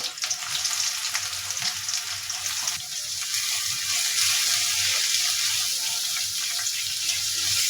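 Onions sizzling and frying steadily in a pan with oil, a continuous broadband hiss close by, with faint clinks and scraping, and no speech.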